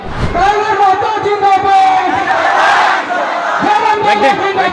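A dense crowd roars and chants at a political rally in Baliapur near Dhanbad, Jharkhand, sustained and loud throughout, with a voice speaking over the noise.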